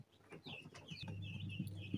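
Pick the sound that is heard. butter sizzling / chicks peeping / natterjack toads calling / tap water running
chicks peeping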